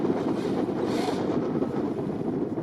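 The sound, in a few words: wind blowing by the water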